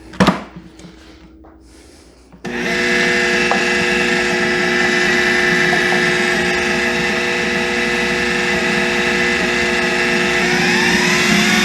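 A food processor whirring steadily as it blends pie crust dough with cold butter, starting after a brief knock and a short quiet pause, then holding a loud, even motor drone close up, with no talking.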